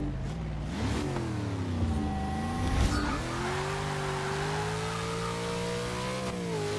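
A race car engine in the Forza video game, geared long, revving hard and bouncing off the rev limiter. The steady high whine climbs in pitch, with a brief shift-like dip partway and faint tire noise, close and continuous.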